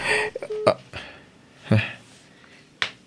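A cellphone keypad is pressed in an Ilocano drama scene, producing a few short electronic dialing beeps near the start, mixed with brief vocal sounds and soft handling noises.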